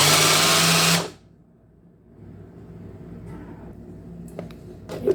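A food processor whirs loudly for about a second and then stops abruptly, leaving a quiet room with faint handling clicks and a couple of sharp knocks near the end.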